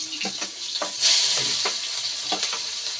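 Onion frying in a shallow layer of oil left over from frying potatoes, giving a steady close sizzle broken by repeated scraping stir strokes, with no voices.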